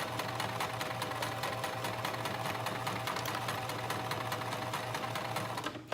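A sewing machine stitches a neckband in one continuous, fast, rattling run for about six seconds, close and steady, stopping abruptly at the end.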